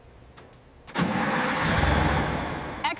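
A restored heavy truck, a Deer Monster Titan X24, cranks and fires up, catching into a steady, loud, broad engine roar that holds and runs on after a few brief clicks beforehand.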